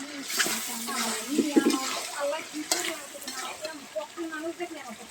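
Beef tripe sizzles in hot oil in a pan and is stirred, with crackling frying and scraping strokes while a person talks over it.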